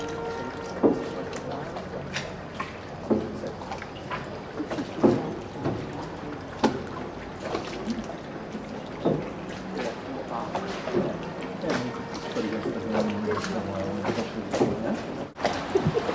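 A gondola glides along the Grand Canal in Venice with soft, irregular water splashes and oar dips. People talk over it in an open outdoor setting.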